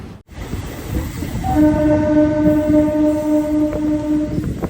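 A MEMU train running from Vijayawada to Rajahmundry rumbles along, then lets out a long, loud horn blast that holds steady for about three seconds over the rolling rail noise, heard from up close.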